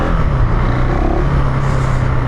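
A KTM 390 Adventure R motorcycle engine pulling steadily from around 3,000 RPM, a loud, dense, continuous drone heard close up from the rider's position, mixed with road and wind rush.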